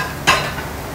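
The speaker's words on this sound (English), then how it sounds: "Nyama choma sizzling on the grill" Nyama choma meat sizzling on a grill in a Kenyan restaurant kitchen. A sudden hiss starts about a quarter second in and carries on as a steady, close sizzle with no voices.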